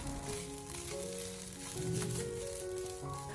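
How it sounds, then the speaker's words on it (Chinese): Egg fried rice with diced cucumber is stir-fried over high heat in a wok, producing a steady, moderate sizzle under sustained tonal background music, with a slight swell midway. "然后再调为大火，给它快速的翻炒均匀，让所有食材的味道充分的融合在一起"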